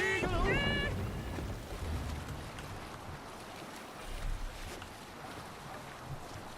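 A rowing boat moving through water in the video game Assassin's Creed Valhalla, with a steady wash of water and wind under a brief tonal voice or horn at the start, moderately quiet throughout.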